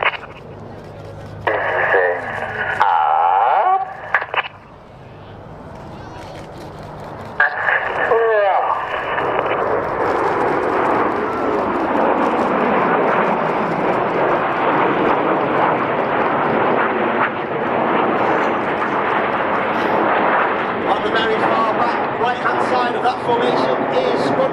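A Royal Air Force Eurofighter Typhoon jet flies a display at an airshow, its roar building into a loud, sustained rumble that dominates, after an announcer's radio-like voice is heard over the public address at the start.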